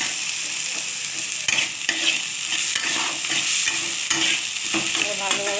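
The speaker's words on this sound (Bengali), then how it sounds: "ভালোভাবে কষিয়ে নিতে হবে, ভালো করে ভাজা" Onion, green chili and garlic fry in a pan, giving a steady close sizzle broken by several sharp scraping stirs of a spatula, with no talking.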